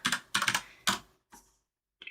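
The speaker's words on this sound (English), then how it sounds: "slow at typing with one hand." One-handed typing on a computer keyboard, close and crisp, in three quick bursts of key clatter separated by short pauses, then a fainter tap and a final brief burst.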